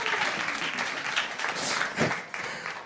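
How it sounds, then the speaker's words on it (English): A round of applause from a group, dense continuous clapping at moderate loudness that swells briefly in the middle and holds steady for the full few seconds with no speech over it. "Can we get a round of applause for the pants?"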